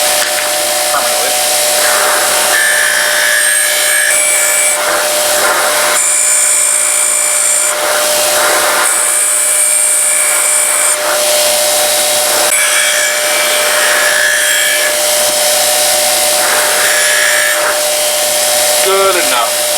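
Bench grinder strips paint from a metal tail light part for a 1948 Ford sedan, a loud high-pitched whine that rises and drops in repeated bursts as the part is pressed against the wheel, running nearly nonstop.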